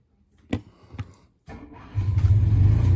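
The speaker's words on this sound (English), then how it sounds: "you can hear the generator running" A few clicks and mechanical clatter, then a generator engine cranks and catches, settling into a steady loud rumbling idle close by.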